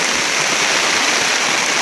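Heavy rain pours steadily on a farm during a wet, windy spell, a dense, even hiss of water with no pauses, loud and close throughout.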